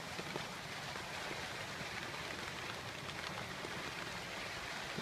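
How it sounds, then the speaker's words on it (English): Rain falls during a sun shower as a steady, faint, even hiss of drops on surfaces that continues throughout, with no talking. "How can we have all this rain and no rainbow?"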